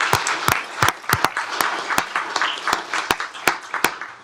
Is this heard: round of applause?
yes